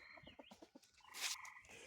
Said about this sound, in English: These are just roosters, and these are we're raising to eat